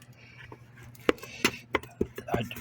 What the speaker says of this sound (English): I just chop it, slice it, mix it, get it into small chunks, keep it in the lacquer thinner